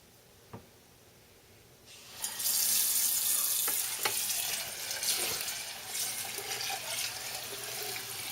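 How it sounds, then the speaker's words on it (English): Running tap water pours into a container and swirls around in it to rinse out lemonade residue, a steady close gush that starts after a faint knock and keeps going to the end, with no voices. "Notice the swirling action to collect all the residue of lemonade and get it out. One final rinse."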